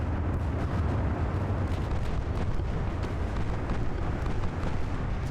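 Naval gunfire from warships in Ultimate Admiral: Dreadnoughts, set in a 1930 Anglo-American war, rumbles as a dense, continuous wash of booming shots and low roar, with overlapping distant salvos blending into one steady heavy din.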